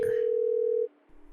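A phone dial tone heard as a steady, loud single pitched hum held for under a second before cutting off abruptly, followed by faint quiet.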